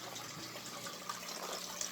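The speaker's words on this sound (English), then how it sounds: "it just drains directly into my sump barrel" Water drains steadily into an aquaponics sump barrel as a constant, close splashing trickle with no voices.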